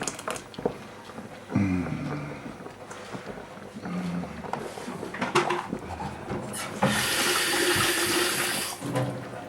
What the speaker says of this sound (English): I'll put a little bit more water in it